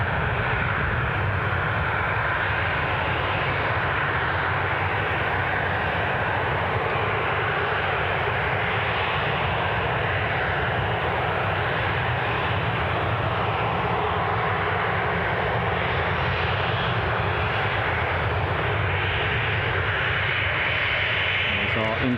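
A passenger airliner on the incoming Belfast flight passes in the background at Newcastle International Airport, a steady broadband engine roar holding for over twenty seconds with a voice talking over it.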